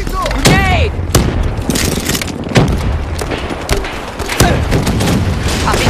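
Gunfire and grenade explosions in Call of Duty: Black Ops III, loud and close, with a dense burst of shots and booming blasts in the opening seconds, then scattered sharp shots and thuds continuing throughout.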